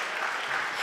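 A church congregation applauding during a Sunday gospel service in Milan, a dense, even burst of clapping heard close and without voices.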